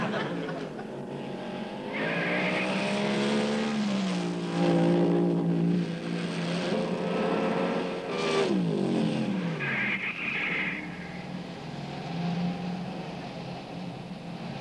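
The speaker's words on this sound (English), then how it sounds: "With the aid of this car, a driver will attempt to get into the ordinary garage first." A car engine revs and accelerates as the car races to be first into an ordinary home garage, its loud harmonic whine rising and falling in pitch throughout, with short squeal-like bursts near the start and end.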